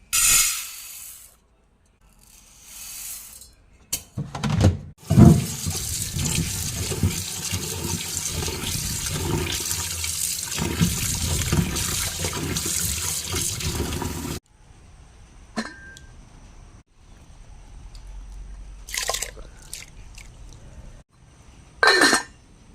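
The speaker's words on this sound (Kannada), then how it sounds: "ಅಕ್ಕಿಯನ್ನು ಕೂಡ ತೊಳೆದು ಹಾಕಿ ಆಯಿತು" A kitchen tap runs hard and steadily for several seconds while rice is washed, then cuts off, leaving a few brief splashes and clatters.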